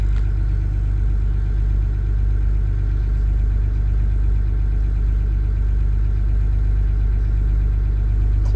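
A boat engine idles steadily at about 990 RPM, giving a loud, even, low rumble with no change in pitch.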